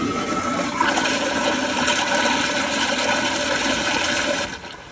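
A Kohler Kingston wall-mounted toilet flushes in one strong, continuous rush of water that lasts several seconds and then tapers off sharply at the end, close by and with no voices.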